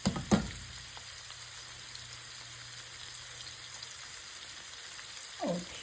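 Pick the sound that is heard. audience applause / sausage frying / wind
sausage frying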